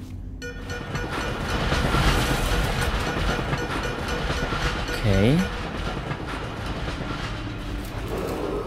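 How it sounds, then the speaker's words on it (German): Commuter S-Bahn train passing in the video game Dishonored, a loud steady rolling clatter of wheels on rails lasting throughout, with a brief rising squeal midway and someone speaking briefly over it. "Interessant, das scheint eine S-Bahn zu sein."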